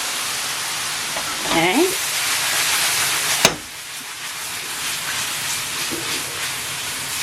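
Italian sausages hit a hot pan of caramelized onions and capsicum, setting off a loud, broad sizzle with a sharp clack of contact midway, then frying on steadily while a voice speaks briefly over it.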